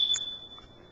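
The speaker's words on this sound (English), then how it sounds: "That beep is either an alarm system or a smoke detector that needs a battery change." A single short high electronic beep, the low-battery chirp of a smoke detector or alarm system in a house, faint and alone in a quiet room.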